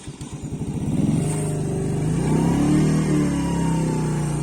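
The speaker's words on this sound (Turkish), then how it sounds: "normal şekilde yavaş yavaş gaz verdiğimizde son gazı veriyor ama birden yüklendiğimizde boğup stop ediyor" The engine of a 2022 Mondial SFC 50 Eco moped is revved under throttle. It pulses unevenly at first, then climbs into a steady, loud, buzzing drone that wavers in pitch, close by with no talking.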